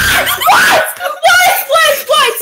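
Several people scream loudly and shrilly at a jumpscare during an online video chat, overlapping high-pitched yells in quick bursts, close and intense.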